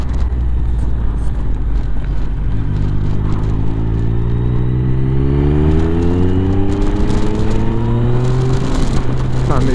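Triumph Tracer 9 GT+ motorcycle on a ride, its engine droning steadily and rising in pitch as it accelerates through gears, heavy wind rush throughout, loud and close with no talk.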